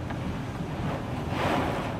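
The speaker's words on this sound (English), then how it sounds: "The water is just sheeting off the roof." Heavy rain sheeting off a house roof in Hurricane Irma, heard from a guest bedroom as a steady, dense roar of rushing water and wind that swells slightly toward the end, with no talking.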